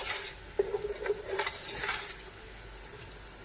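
Onions frying in a pan until golden brown for aloo gobi, a continuous sizzle with occasional stirring scrapes and light clinks of a utensil, close and moderately loud.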